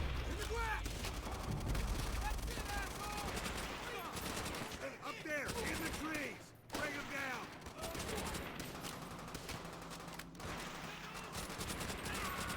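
Dense gunfire fills the Call of Duty: World at War battle, with many loud overlapping shots and bursts, sniper fire among them, under shouted soldier voices throughout.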